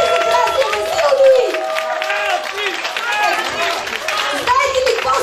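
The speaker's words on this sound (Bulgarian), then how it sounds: "Млади аплодисменти за Краси, Василни!" Audience applause at a Christmas party, dense steady clapping mixed with crowd chatter and voices, loud and sustained throughout with music-like tones layered on top.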